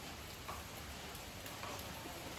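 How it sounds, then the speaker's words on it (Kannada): Light drizzling rain outdoors in a village makes a soft, constant hiss with faint scattered drop patter, steady and distant, with no voices. "ಮಳೆ ಬರ್ತಾ ಇದೆ, ಸ್ವಲ್ಪ ಹನಿ ಹನಿ ಮಳೆ"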